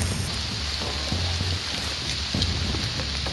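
Heavy rain pours through a mountain forest on Doi Inthanon, a dense, steady hiss of drops on leaves and rain gear, continuous and fairly loud without speech.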